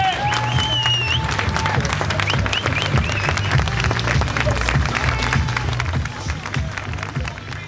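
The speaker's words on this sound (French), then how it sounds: "J'aimerais que vous fassiez un tonnerre d'applaudissements pour Roxane Lundi." A campaign audience in Beauvais gives a thunderous round of applause for candidate Roxane Lundy, dense sustained clapping from a crowd with scattered voices and cheers over it, easing off near the end.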